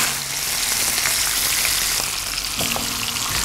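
Tilapia fish pieces frying in hot oil in a pan for a fish and eggplant curry, a dense, continuous sizzle up close with a couple of brief stirring knocks and no talking.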